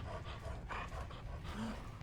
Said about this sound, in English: Wait, the dog is still here?